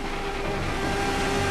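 A Formula 3 race car engine in Assetto Corsa, a steady, loud, high-pitched whine held at constant revs, close and continuous with no talk over it.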